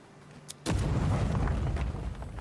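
A grenade goes off in the fantasy game Avowed: a single sudden blast strikes after a moment of quiet, then a loud, sustained rumbling roar rolls on and stays heavy through the rest of the moment.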